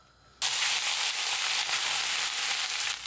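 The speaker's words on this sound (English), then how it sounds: "We will get the rice fried up." Rice hits hot oil in a pan with a sudden loud sizzle that starts after a brief quiet moment, then holds as a steady, bright frying hiss to the end.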